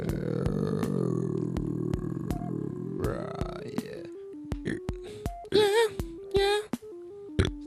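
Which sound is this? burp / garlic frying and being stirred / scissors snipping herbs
burp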